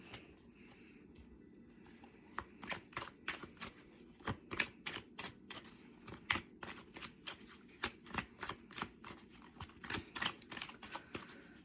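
Tarot cards being drawn and shuffled: a quiet, close run of crisp riffling and flicking snaps in an uneven rhythm, with no talk.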